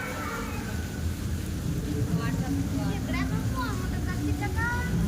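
Steady rain hisses in a rainforest in the background while people talk over it.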